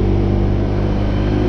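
A Honda PCX scooter rides through heavy rush-hour traffic, its steady engine drone and road rumble loud and continuous, with wind noise throughout and no talking.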